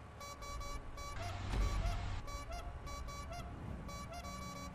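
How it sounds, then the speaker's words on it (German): Repeated electronic horn toots in quick clusters over a steady engine drone during a GTA Online motorcycle race, with a louder rumbling burst midway. "Oh, die triggert mich, diese Hupe."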